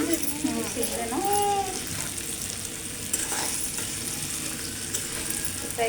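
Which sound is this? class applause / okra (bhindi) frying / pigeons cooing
okra (bhindi) frying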